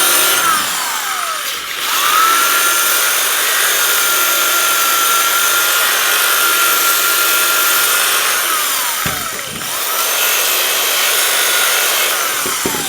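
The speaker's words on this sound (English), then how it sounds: "you can always take your sander and sand it to the line." A power sander grinds steadily along a cut edge of a Ford Bronco body panel, bringing it down to a marked line; a loud, continuous abrasive whir runs almost the whole time, briefly dropping off twice as the tool lifts.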